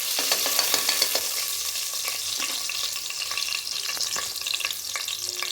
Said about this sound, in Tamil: சோம்பு, இந்த என்னென்னலாம் வச்சுருக்கணும் அதெல்லாம் போடுறேன் நான். போட்டுட்டு நல்லா இப்படி கிண்டி விட்டுட்டு